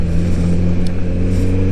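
A 2022 Kawasaki Z900RS motorcycle engine runs while being ridden on a road, a loud steady low rumble close to the rider, with no voices.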